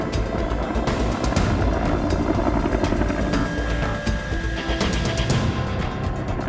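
Loud, steady helicopter rotor and engine roar fills the cabin throughout, a continuous dense drone with rhythmic blade chop, heard from inside during a flight to a drop zone.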